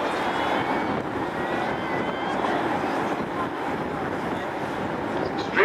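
Airbus A380 with Rolls-Royce engines flying at the Farnborough Airshow 2008, a steady distant roar of jet engines heard from the ground, fairly faint and continuous, swelling slightly at the end.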